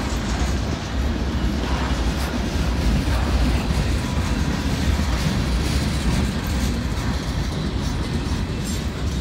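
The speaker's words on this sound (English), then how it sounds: "Not a real long train." A CSX freight train of empty bulkhead flat cars, the kind used to carry lumber, rolls steadily past in a deep Kentucky mountain cut, with a continuous close rumble and rattling wheel noise throughout.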